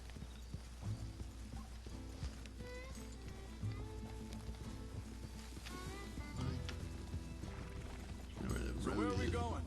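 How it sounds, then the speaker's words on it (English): Horse hooves clip-clop in a steady walking rhythm in Red Dead Redemption 2, close and fairly quiet, while voices talk over them and a louder scuffle rises at the end. "Come on, horse."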